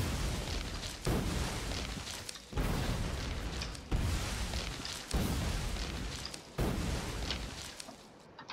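Grenades thrown in Factorio explode one after another, six heavy booms at roughly one-second gaps, each with a rumbling tail, loud and with no talk.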